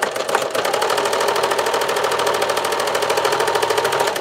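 Sewing machine stitching a medical device belt, a loud, close, rapid mechanical chatter with a fast even rhythm, running nonstop throughout.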